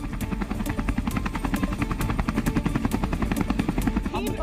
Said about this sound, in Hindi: इसके बाद अपाचे हेलीकॉप्टर ने अजय फॉर्मेशन में उड़ान भरी।